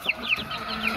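Young stag roosters, about a month old, giving a few short high clucks and chirps close by, three distinct calls within a second with a faint background hiss.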